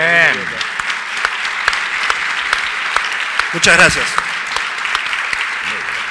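At an anniversary forum, the audience claps for a speaker in a loose, fairly sparse round of applause, with a voice briefly speaking over it partway through.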